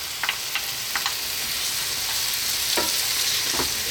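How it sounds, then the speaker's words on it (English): Tomatoes tumbling into a pan where onions and garlic fry over medium heat, giving a steady close sizzle with a few soft knocks and splats as pieces land. "We're now going to drop in our tomatoes."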